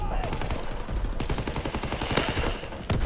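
Shotgun fire in a video game: dense, booming blasts crack out one after another in rapid succession, loud and close, over a busy background of combat noise.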